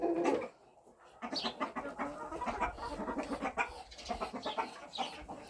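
Cochin chickens scratch through rabbit waste in a vegetable garden outdoors, clucking in short, repeated bursts that sometimes overlap, close by and fairly quiet.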